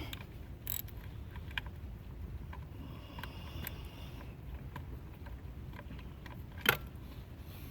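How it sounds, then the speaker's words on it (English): Small ratcheting and metallic mechanism clicks from a 10mm socket loosening valve cover bolts on a BMW E36 four-cylinder, faint and scattered with one sharper click near the end, no talking. "you're going to want to go ahead and start moving these valve cover bolts"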